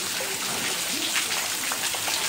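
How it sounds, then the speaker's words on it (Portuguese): Heavy rain pours steadily at night in a dense, loud hiss of drops, with a faint voice murmuring beneath it; lightning has flashed and water is rising. "a chuva hoje tá forte"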